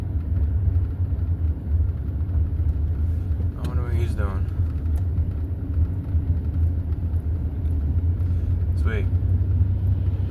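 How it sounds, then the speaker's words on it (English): A semi truck arriving on a rural road near horses, a low steady engine rumble throughout, moderately close, with someone speaking briefly over it twice. "There's a semi truck just coming in."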